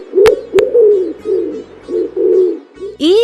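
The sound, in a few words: pigeon cooing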